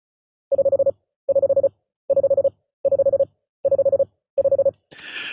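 Morse code CW sent at 35 words per minute comes as six tight bursts of fast, evenly spaced beeps on a single pure tone. A short hissy noise follows at the end.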